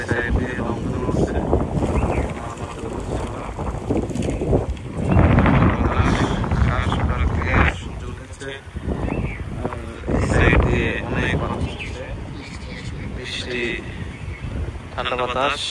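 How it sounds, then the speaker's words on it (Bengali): Strong wind blows over the Karatoya river ahead of a storm, a gusty broadband roar buffeting the microphone steadily throughout while people talk over it. "পরিমাণ বাতাস হচ্ছে, এদিক দিয়ে ঝড় আসতেছে"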